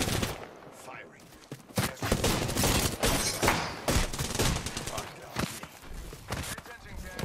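Bursts of rapid gunfire in the video game Apex Legends crackle in irregular volleys, sharp repeated shots up close, with voices talking over the action.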